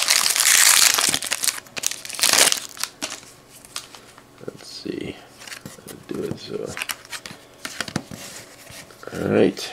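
Retail pack of 2013 Crown Royale football trading cards being torn open, with bursts of crinkling foil wrapper and shuffling cards, while someone talks over the handling.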